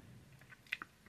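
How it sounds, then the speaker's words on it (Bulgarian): Snail-shaped pasta eaten with sugar, heard as quiet close chewing with a couple of brief, sharper bites near the end, alone without talk. "Сега ще си ги хапна с захар."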